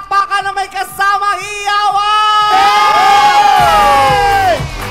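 A large crowd at an outdoor political grand rally in Albay cheers and shouts: first choppy bursts of voices, then a loud, sustained swell of high whoops and yells.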